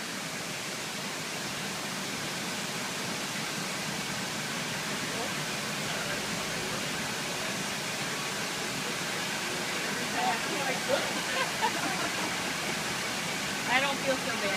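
Water rushes steadily at the closing lock gates of the Erie Canal in Lockport, a broad constant roar with a few faint voices speaking over it near the end.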